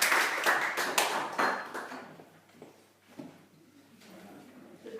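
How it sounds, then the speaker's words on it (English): A small home theatre audience claps for a performer, a brief close burst of hands that fades within two seconds into quiet room sound with a few soft knocks and faint murmurs. "Let's give a round of applause."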